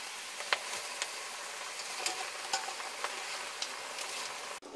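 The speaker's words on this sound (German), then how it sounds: "Anschließend geben Sie den Spinat zu den Zwiebeln" Spinach sizzles with softened onions in a vegetable pan, giving a steady crackling fry hiss with a few sharp stirring clicks and scrapes, close up and without talk.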